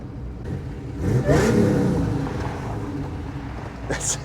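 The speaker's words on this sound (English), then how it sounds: "It is such a cool sounding little car." A supercharged 3800 V6 in a Pontiac Fiero with a five-speed revs up with a rising whine and eases back down, heard up close, followed by a brief higher burst near the end.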